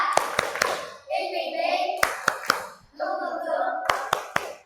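Children's tepuk semangat clapping game in a primary school class: sharp rhythmic hand claps in short bursts, alternating with children chanting together.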